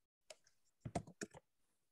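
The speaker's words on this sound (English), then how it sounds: "And I'm typing it into chat." Faint, scattered clicks of typing on a computer keyboard in a quiet room, with a few short bursts of keystrokes.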